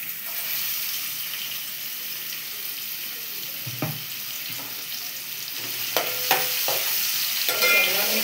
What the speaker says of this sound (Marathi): आता तेल तापले, त्याला कांदा टाकला पहिला.